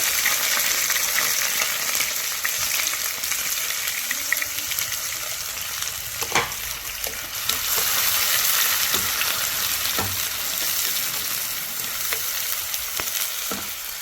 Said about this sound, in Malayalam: ഇതൊന്ന് മൂത്ത് വരുത്തെ അതിലേക്ക് നമ്മൾ ഒരു സവോള ചെറുതാക്കി അരിഞ്ഞ് വെച്ചിരിക്കുന്നത് അതും കൂടെ